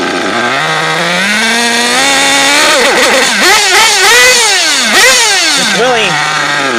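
A modded Mugen MBX5 dirt bike engine, running rich, idles loud and close with a buzzy, wavering pitch that blips up and down in a few quick rises mid-clip.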